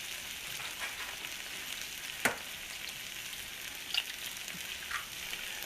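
Eggs frying in a pan crowded with other breakfast food, a steady close sizzle with a few sharper pops and scrapes scattered through it, no voices.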